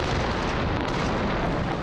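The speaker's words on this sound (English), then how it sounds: "there is a rousing fireworks display outside the city's ancient walls" Fireworks burst at a night display outside ancient city walls during a festival, a dense, continuous crackling rumble of overlapping explosions at steady loudness, with no talk.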